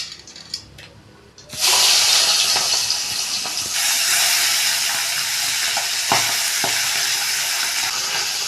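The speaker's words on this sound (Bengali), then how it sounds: "এইভাবেই এই মাছগুলো ভেজে নেব।" Fish frying in hot oil bursts into a loud, steady sizzle after a quiet start, with occasional sharper crackles and clinks as the pieces are moved, close up and with no talk.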